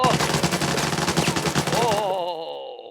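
Relentless automatic gunfire from a firefight in the video game Arena Breakout, with rapid bursts hammering loud and close for about two seconds before giving way to a fading ringing tail.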